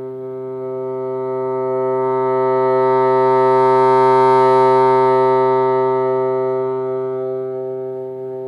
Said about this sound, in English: let's try the C again, see if we can get a better pianissimo